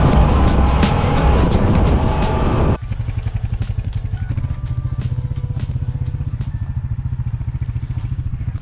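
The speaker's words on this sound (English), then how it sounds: "Mama wants to ride the ATV." A 2022 Yamaha Grizzly 700 XTR ATV engine runs loud and close, roaring hard for the first few seconds, then dropping to a steady, rapidly pulsing idle-like chug with rattling clatter.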